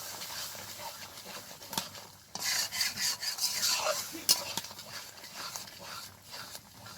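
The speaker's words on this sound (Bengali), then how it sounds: "এবার সব কিছুকে খুব ভালোভাবে কষাবো যতক্ষণ না পর্যন্ত তেল ছাড়ছে মশলা থেকে।" Spiced masala for biryani, salted and stir-fried in a pan until the oil separates, gives off soft scraping and rubbing sounds of a spatula against the pan, in uneven strokes with a few sharper clinks.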